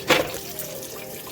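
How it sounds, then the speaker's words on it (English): A spray bottle filled with water and a little soap gives one short, close spritz, then a faint wet trickle fades out. "This is a spray bottle, I'll probably be filming in this video. Just water and a little bit of soap over there."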